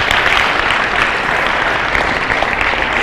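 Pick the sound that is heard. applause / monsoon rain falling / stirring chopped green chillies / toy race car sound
applause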